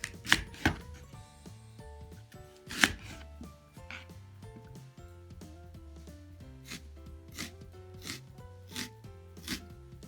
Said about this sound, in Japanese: 長ネギは4センチから5センチ幅に切ります。